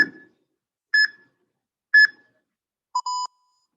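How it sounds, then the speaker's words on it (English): A workout interval timer gives three short electronic beeps about a second apart, followed by a longer lower-pitched tone, clear and alone in silence. "hopefully you heard my zone timer there."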